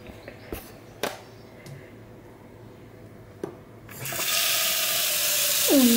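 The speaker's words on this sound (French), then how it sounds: "La fille s'extasie devant un robinet qui coule." A few sharp knocks and clicks in a quiet room, then a tap turns on and water runs steadily and loudly into a basin.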